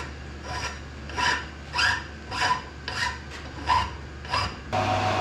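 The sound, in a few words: deburring a cast BSA Bantam triple clamp by hand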